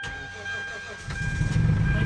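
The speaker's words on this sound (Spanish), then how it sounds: "Vamos a ir a prender el carro" A 2006 Hyundai Sonata GLS with the 3.3 engine starts up: after about a second of quiet hum and a faint steady tone, a deeper engine rumble swells in and keeps building, close and moderately loud.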